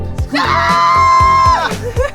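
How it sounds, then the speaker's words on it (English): A small group of people scream together on purpose in Seattle, a loud, close, sustained shared shriek of about a second, with brief voices just before and after. "I guess we just scream, right?"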